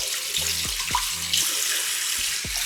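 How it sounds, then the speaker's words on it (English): Tap water runs steadily into a bathroom sink during a post-shave rinse, with intermittent hand splashes and low thuds as water is scooped to the face, close and moderately loud with no talking. "So I'm going to rinse off."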